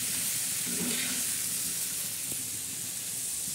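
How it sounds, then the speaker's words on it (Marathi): Round slices of bitter gourd stir-fry on a tawa without water, giving a steady soft sizzling hiss with faint occasional stirring sounds and no speech. "त्यांना फ्राय करून घेणार आहोत चांगले आपण"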